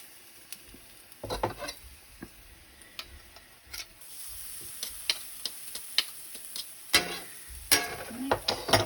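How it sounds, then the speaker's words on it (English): Two crushed garlic cloves fry in oil in a pan, a quiet sizzle broken by scraping, stirring clicks and taps that grow busier toward the end. "I have 2 cloves of garlic here that I'm just going to crush into the pan."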